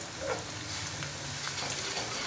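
Steady sizzling and crackling of garlic ginger paste frying in a hot pan, close and continuous, with faint clinks and no talking.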